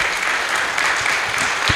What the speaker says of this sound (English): one huge round of applause for our final panelists of Elevate 2025